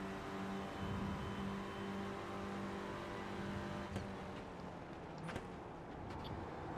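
A Renault Clio race car in iRacing at Road America holds a steady, moderately loud engine drone, with a few brief sharp ticks near the end and no talking.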